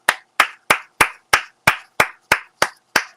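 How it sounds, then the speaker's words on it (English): Bare hands clap ten times in an even, steady rhythm, each a sharp, close, loud smack with a quick decay, played alone with no talk over it. "I have to clap"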